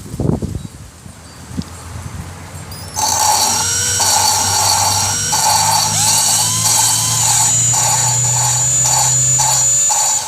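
A handheld power drill spins an engine valve against its seat during valve lapping, a loud steady whirring whine with pitch wavering slightly as it runs continuously after a few seconds of quieter handling noise.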